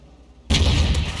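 A Rheinmetall Skorpion G tank gun fires an AP round in a video game: a single sudden loud boom after a quiet stretch, ringing out and lingering.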